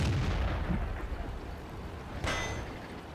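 Tank cannon fire in World of Tanks booms at the start and fades into a low rumble, followed by a sharp metallic ringing hit about two seconds later.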